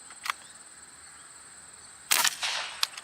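A Beeman Raider air rifle fires on the range with a sharp crack at the start, followed after a pause by a louder burst of clicking and mechanical noise, then another short snap near the end.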